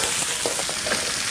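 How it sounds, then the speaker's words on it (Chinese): Blanched pork bones and spices stir-fry in lard in a hot wok, giving a loud, steady sizzle with a few soft knocks from tossing. "大骨一起炒一下会更香，并且没那么油腻。"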